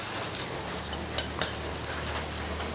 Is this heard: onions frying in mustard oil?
yes